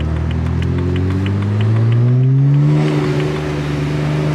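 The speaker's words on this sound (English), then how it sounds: "the obnoxious one with a straight pipe exhaust" A loud, raspy straight-pipe exhaust on a BMW E92 335i drones and climbs in pitch as the engine revs up, then settles back, harsh and close.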